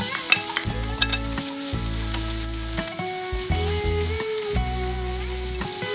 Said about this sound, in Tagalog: So igisa ko na itong bawang.